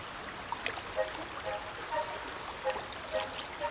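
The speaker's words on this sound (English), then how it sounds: "Below the forest, the river Klemgia winds through the valley." The river Klemgia flowing through a Swiss valley, a soft, steady trickle and burble of water with small splashing accents, moderately faint.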